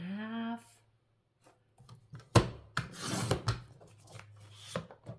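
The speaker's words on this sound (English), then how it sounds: "So now what you can do is cut that. Let me grab my trimmer." A paper trimmer blade slides through cardstock in a few short, scraping rasps with quiet handling noises between the cuts, heard close up after a brief bit of speech.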